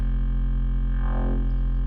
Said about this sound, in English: very mid-distorted bass with a sub-level bass under it to complement it, and had it sidechained to give it a pump feel